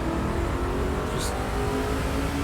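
Racing truck engine in the NASCAR 06 video game, a steady droning whine with a sustained rev, loud and continuous throughout with no speech.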